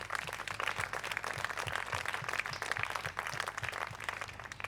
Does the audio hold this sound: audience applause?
yes